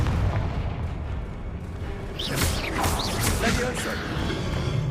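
A Confringo blasting spell from Hogwarts Legacy erupts in a loud, rumbling explosive burst with crackling debris, swelling midway and sustained over dense game noise.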